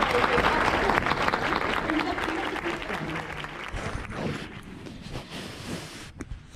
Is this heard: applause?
yes